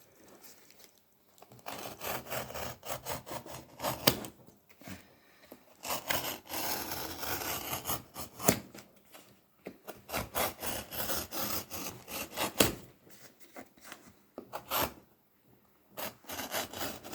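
Excess upholstery fabric is trimmed away after stapling on a deep-buttoned piece, with quiet, close, irregular rasping cutting strokes coming in short bursts and brief pauses.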